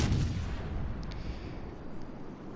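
Heavy ship guns firing at a battleship Colorado in a naval combat game, a loud low boom at the start rolling into a long rumbling decay, with no talk.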